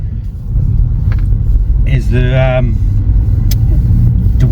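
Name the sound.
VW R-Line car engine while driving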